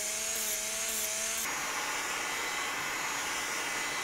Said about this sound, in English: taking a rotary tool and sanding them down just a little bit on the edge